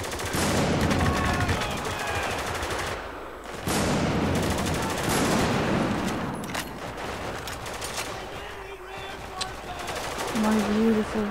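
Sustained automatic gunfire in the military shooter Spec Ops: The Line, dense and loud with brief pauses between long bursts, with a voice heard over the shooting at moments.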